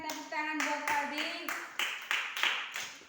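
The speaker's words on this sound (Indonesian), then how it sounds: "berikan tepuk tangan buat Faldi." Several sharp hand claps ring out in a steady rhythm for a child at a Sunday school gathering, with an adult voice talking over the first half before the claps continue alone.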